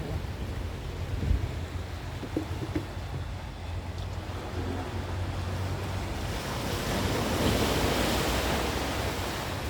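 Strong sea waves break continuously on the beach at Kalim, a steady loud roar of surf with wind buffeting the microphone, swelling slightly louder toward the end, with no voices.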